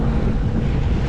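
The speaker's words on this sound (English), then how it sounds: "it's actually super wavy and windy right now" Loud, rumbling wind buffeting the microphone while jet skiing on the water in Toronto, a continuous low roar with no voices.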